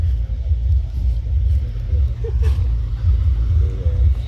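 Low, steady engine rumble of heavy trucks pulling in and lining up one after another near a rice harvester in the field, continuous and fairly loud with no talk over it.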